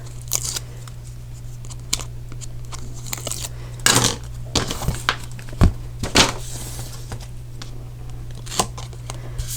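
Scissors or a paper piercer peeling a paper backing strip off in papercraft card making, heard as close snips, crinkles and sharp tearing clicks scattered over a steady low hum.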